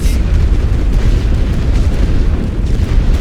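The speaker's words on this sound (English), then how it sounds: "the artillery barely touches them in the smoke" Artillery shelling in The Great War: Western Front video game: a continuous loud low rumble of overlapping explosions, heavy and booming throughout with no clear gaps.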